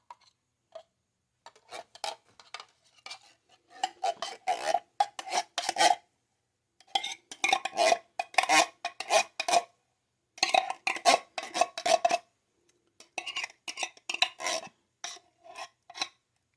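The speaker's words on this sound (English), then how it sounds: "I'm going to go ahead and add this soup in" Canned soup scraped out of its can into a baked cheesy cauliflower casserole, heard as repeated rasping scrapes of a utensil against metal in bursts with short pauses, close and fairly clear, with no voices.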